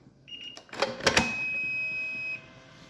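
A Makita battery charger sounds a short electronic tune, a few bright tonal beeps with sharp clicks, then one sustained high tone that holds for about a second before cutting off, close and fairly loud.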